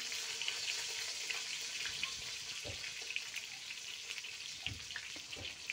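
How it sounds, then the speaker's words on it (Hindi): Stuffed eggplants placed one by one into a hot cooking pot for bharwa baigan, giving a soft continuous sizzle with faint knocks and splashes, near and fairly quiet. "ये बैगन मैंने भरे हुए थे जो सब अभी मैं इस भगोनी के अंदर डाल रही हूँ"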